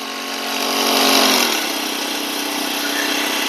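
A small battery-powered sprayer pump hums steadily and loudly, its pitch dropping slightly after a brief surge, then running evenly to the end.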